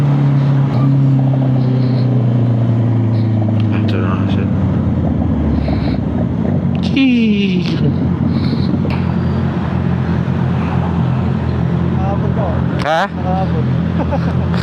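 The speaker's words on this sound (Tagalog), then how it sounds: "Traffic dun." Road traffic along the route toward Tagaytay, thick with motorcycles, passes as a continuous engine rumble with several vehicles sweeping by up close, while a person briefly speaks.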